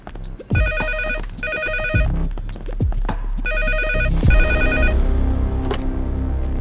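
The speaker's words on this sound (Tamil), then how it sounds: "உங்களுக்கு ஃபோன் வந்திருக்கு." A telephone rings in a Tamil drama scene, repeated bursts of bright electronic ringing in a clear rhythmic pattern, loud and close, with knocks and clatter between the rings.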